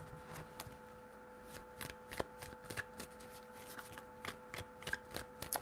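Tarot cards being shuffled by hand in a quiet room, a series of crisp, close riffling bursts with short pauses between them, under a faint steady hum and no talking.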